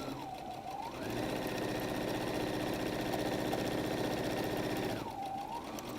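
A sewing machine back-stitching down the side of a fabric bag, its motor ramping up to a steady, fast mechanical whir for about four seconds, then winding down, close and moderately loud.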